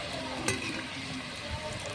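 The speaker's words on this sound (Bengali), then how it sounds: "এরকম ভাবে সবগুলো ভেজে নেব।" Vegetable chops fry in hot oil with a soft, continuous sizzle, close and fairly quiet, with one brief clink of a utensil against the pan.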